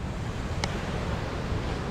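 Wind and surf at Pandawa Beach, Bali: a steady, loud rush of breaking waves blended with gusting wind buffeting the microphone. No one speaks.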